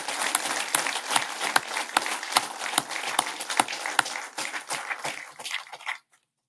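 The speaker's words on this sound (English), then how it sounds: "I want to give a round of applause to the staff because they do the hard work" Applause at a graduation ceremony for a class of VA police officers: a room full of hands clapping steadily and fairly close for several seconds before stopping abruptly.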